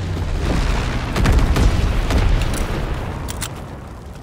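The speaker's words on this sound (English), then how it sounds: "Dropping incendiary." Incendiary bomb blast in Call of Duty: WWII, a loud sustained rumbling boom with crackling bursts swelling in the middle and tapering off, plus a few sharp pops near the end.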